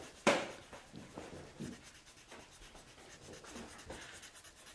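A crayon or colored pencil rubs and scratches across paper while a sun is colored in yellow, giving soft, close, irregular strokes with one sharper scrape near the start.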